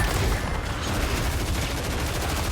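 Grenade explosions and rapid gunfire from Killing Floor 3 roar without pause, a dense, loud wall of booms and shots throughout.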